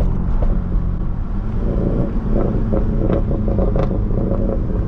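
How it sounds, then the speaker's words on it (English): A BMW E92 engine rumbles close by, its pitch dropping and rising in brief surges as the car shifts down, with a few short blips over the steady drone. "That was the downshift."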